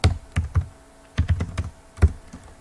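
Typing on a computer keyboard: quick clusters of close, crisp key clicks with short pauses between bursts, no talk.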